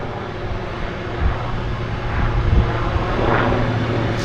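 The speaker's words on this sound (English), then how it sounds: "It's a helicopter going out." An S-76 helicopter heads out from a downtown harbour airport, a steady, fairly loud rotor and engine roar that builds slightly as it departs, with no one talking.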